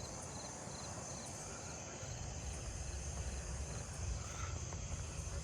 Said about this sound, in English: Oh, I hear fall field crickets.